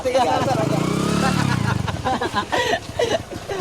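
A Suzuki Raider F motorcycle engine runs close by with a steady mid-pitched drone, partly buried under loud conversation between several people.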